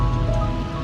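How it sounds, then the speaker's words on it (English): Heavy rain pours steadily onto a surface in a remote rural stretch, a dense, even patter that stays loud and close throughout, with a faint low hum beneath it. "Oh my God, and it's pouring rain."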